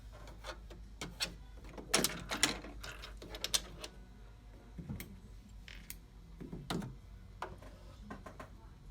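An embroidery machine stitches a cactus design, giving a faint, steady mechanical whir broken by irregular short clicks and taps from the needle and thread mechanism, close by in a quiet room.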